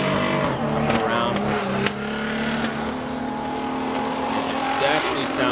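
Drift car in qualifying at Okayama International Circuit, its engine running rough as if down a cylinder, loud and close with a droning rev that shifts pitch, under a commentator's voice.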